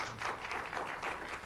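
Audience applause at a county zoning board of appeals meeting, a brief burst of clapping from a small crowd in a meeting room, moderately loud and without talk.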